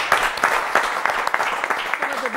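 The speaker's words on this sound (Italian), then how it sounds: "Applauso." Studio audience applause on an Italian local TV football talk show, lively clapping with distinct sharp hand strikes throughout, near and fairly loud, with some voices mixed in.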